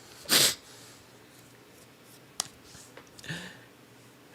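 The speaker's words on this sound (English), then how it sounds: "I'm gonna sneeze." A single sharp sneeze bursts out near the start, followed by faint clicks and a soft snort in an otherwise quiet room.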